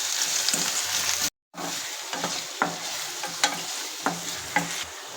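Onion frying in a pan until reddish for a homemade pizza sauce: steady sizzle broken by a brief dropout, then rhythmic spatula scrapes and stirs repeating every half second or so.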